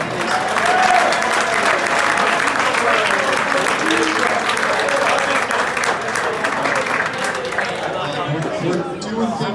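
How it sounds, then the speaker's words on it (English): Sustained applause from a crowd at a boys volleyball banquet, steady loud clapping filling the room for the whole stretch with faint chatter underneath. "let's give those guys a round of applause, please."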